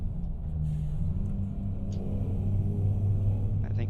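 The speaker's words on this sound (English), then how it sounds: "We are driving a Scania Type R." Scania R truck engine in a truck-driving video game, a steady low rumble holding throughout with a slight rise in intensity toward the end, no talking over it.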